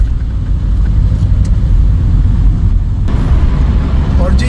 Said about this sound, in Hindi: आज लगता है काफ़ी ज़्यादा ट्रैफिक है यहाँ पर